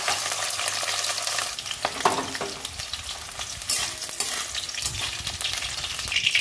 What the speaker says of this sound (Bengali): আমি বিনসগুলো ভেজে নেব